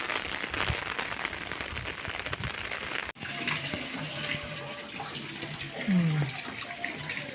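Heavy rain pouring outside a village house, a continuous wet rush with splashing water, close to the listener, briefly cut midway, with a faint tonal sound near the end.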